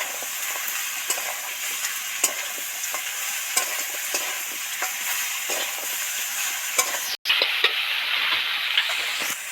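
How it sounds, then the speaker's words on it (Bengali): Crab for a mustard crab curry is stirred in a hot pan, giving a steady sizzle of frying with repeated scraping and stirring strokes throughout, and one brief cut near the end. "ভালো করে ধরে ধরে আরো 5 মিনিট নাড়তে থাকবো।"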